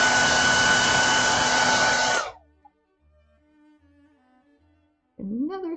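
A hair dryer blows steadily and loudly for about two seconds while paint is dried on small mini paintings, then shuts off abruptly, leaving near silence before a voice speaks at the end.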